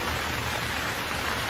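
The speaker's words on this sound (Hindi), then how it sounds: "हर तरफ जंगल में काले बादल छा जाते हैं और बारिश होने लगती है।" Steady rain pours over a cartoon jungle under dark clouds, a dense, even hiss with no breaks, close and moderately loud throughout, with no voices.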